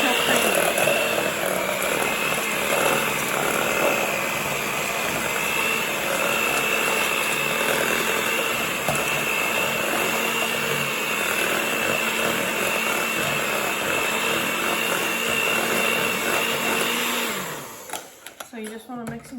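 An electric mixer whirs steadily, combining eight ounces of cream cheese with half a stick of butter until creamy, a loud continuous drone that cuts off near the end.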